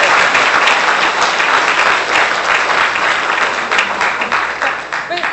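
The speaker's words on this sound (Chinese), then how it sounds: "让我们以再次掌声感谢郑老师" Sustained applause from a lecture audience thanking the speaker, Professor Zheng, dense steady clapping that holds for several seconds and tapers slightly toward the end.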